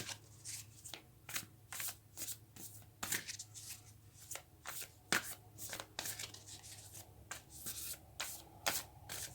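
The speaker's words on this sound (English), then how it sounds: "let's take a spirit animal oracle card to see what might aid you during this time" Spirit animal oracle cards are shuffled by hand in a quiet room, producing a long, steady series of soft riffling flutters and light snaps at a fairly regular pace, close up and alone.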